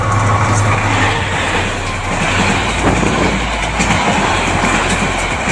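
A Bangladeshi intercity passenger train in motion: a loud, continuous rolling rumble with a steady rhythmic clatter of wheels on track, heard close by and alone throughout.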